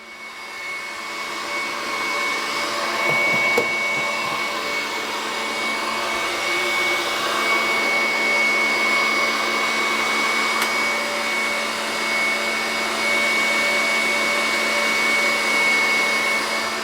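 Electric mixer whipping egg whites to stiff peaks for protein blueberry muffins, a steady continuous motor whine with a high tone running throughout, loud and unbroken, with no talking.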